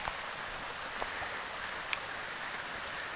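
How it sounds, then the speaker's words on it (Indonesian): Light drizzle falls on the way to Puthuk Gragal in Mojokerto, a soft continuous hiss with occasional tiny drop ticks, faint and even throughout. "dalam keadaan hujan."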